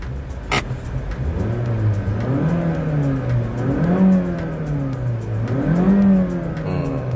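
A Mazda Skyactiv petrol engine revving in a car: a droning hum rises and falls in repeated swells, with a short sharp click near the start, close and loud.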